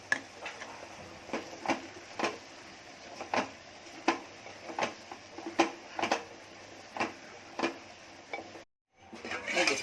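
Metal utensils tap against dishes while a Konkani prawn lunch is plated, making about a dozen evenly spaced clinks at moderate volume, close by and quiet between strikes.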